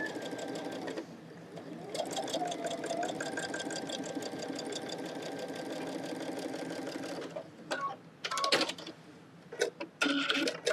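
Sewing machine stitching quilt pieces together, a steady rapid mechanical whir running for several seconds, then stopping and giving way to handling noises and short rustles.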